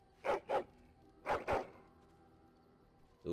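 A dog in the video game Dragon Age: Origins gives two pairs of short, loud barking growls, the pairs about a second apart, followed by quiet.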